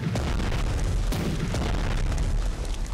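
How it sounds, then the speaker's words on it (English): Heavy naval gunfire from the Bismarck battleship's big guns in a strategy video game: continuous deep booming and blasting, loud and dense throughout, with overlapping explosions rumbling under a steady roar. "Even with the big guns going."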